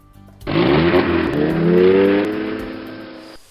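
A car accelerates hard and races off, its engine revving upward in pitch over a few seconds with loud, close roar and no talking, then cutting off abruptly.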